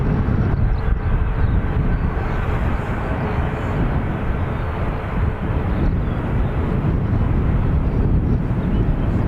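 A Ryanair airliner takes off from Dublin Airport, a steady, loud broadband jet roar with wind buffeting that holds throughout without letting up.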